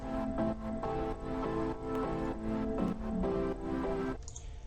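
Sustained layered future bass synth chords shift through a steady progression, thick, with a bright airy top and a soft pad tail swelling at the end.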